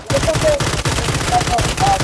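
Rapid gunfire in a Call of Duty multiplayer match, loud and continuous over the full stretch, with brief in-game tones layered over the shooting and no clear talk.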